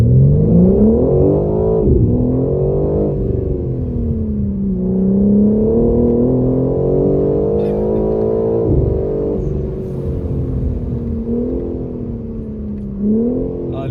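A BMW M4 Competition's 510-horsepower S58 engine revs hard and rises in pitch through repeated gear changes, loud and close, with a strong harmonic growl throughout.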